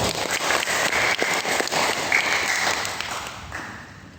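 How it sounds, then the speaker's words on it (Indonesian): Applause from the audience at a regional work meeting of the PERADIN Banten organisation in Tangerang, a dense crowd clapping steadily for about three seconds before tapering off. "Aplaus dulu dong"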